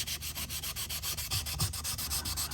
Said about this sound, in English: I'm gonna dip the sandpaper in a bucket of water to wet it, and then I'm gonna start sanding it